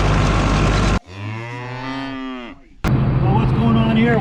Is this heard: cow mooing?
yes